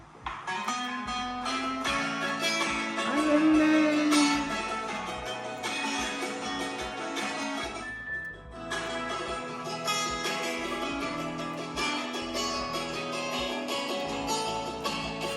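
A full band plays a Fijian cover song with steady strummed guitar and a sung melody, a brief dip in the middle before the music carries on at even volume.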